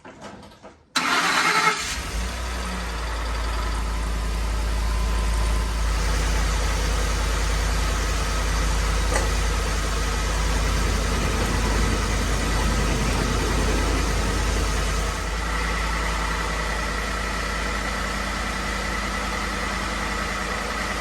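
Ford F-150 with a 5.0 V8, fired up after an oil pan gasket replacement, starts with a short crank and catch, then settles into a steady, close idle for the rest of the clip.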